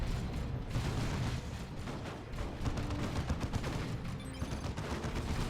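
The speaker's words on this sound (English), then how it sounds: "More grenades going to go in." A Dawn of War II: Retribution battle between Eldar and Space Marine forces rages, with dense, continuous volleys of gunfire and grenade blasts layered into a loud, chaotic barrage.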